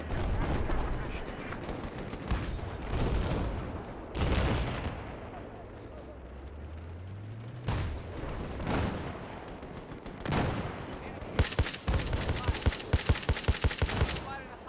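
Rifle gunfire from an SKS in Battlefield 4 multiplayer, scattered single shots and bursts mixed with distant artillery-like booms, ending in a rapid string of sharp shots, with game voices between.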